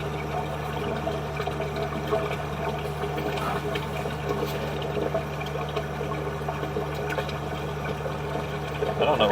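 Water runs steadily through a kitchen grease line after jetting, a continuous rushing, gurgling flow under a constant mechanical hum, with faint voices now and then.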